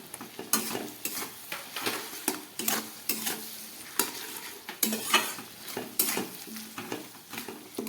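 Green peas sizzle and crackle in hot oil with fried potatoes while a spoon stirs them with repeated scraping strokes against the pan, close and fairly loud.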